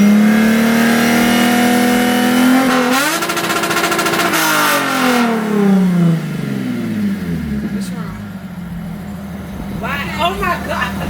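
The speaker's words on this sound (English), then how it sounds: "I'm gonna just rev it up." A Lexus car in a parking lot holds a loud, steady engine tone, then its revs swell and fall in sweeping pitch changes, fading to a lower idle as people talk nearby.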